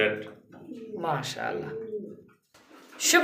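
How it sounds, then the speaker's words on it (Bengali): Indian Lotan pigeons coo in low, throaty bursts that overlap through most of the stretch, then break off into a brief pause before sound returns with a brighter chirp-like burst near the end. "আমরা দেখতে পাচ্ছি এখানে আরও একটা জোড়া কিন্তু কবুতর আলহামদুলিল্লাহ এটা হচ্ছে লোটন সেই লোটন আমাদের জনপ্রিয় ইন্ডিয়ান লোটন কবুতর"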